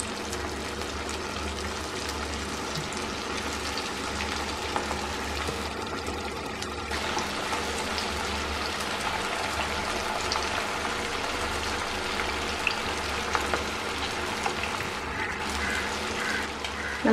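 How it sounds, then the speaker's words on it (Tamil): Vegetable kofta balls deep-fry in hot oil with a continuous, fairly quiet bubbling hiss that holds steady throughout, with no speech. "இதெல்லாம் நம்ம ஒன்று ஒன்றா எடுத்து போட்டு பொரிச்சுக்கலாம்."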